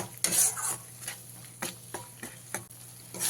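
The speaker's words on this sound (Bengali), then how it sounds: "ভালো করে মশলাটাকে 2 থেকে 3 মিনিট কষিয়ে নিতে হবে" Spice paste for a Bengali katla fish curry being stirred and fried in a pan, with a utensil scraping and knocking against the pan in irregular strokes over a low, steady sizzle.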